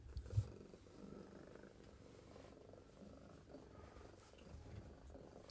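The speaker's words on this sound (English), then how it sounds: "You're a goofy cat." A house cat purring close by, a steady low rumble that runs continuously and softly throughout with no talking.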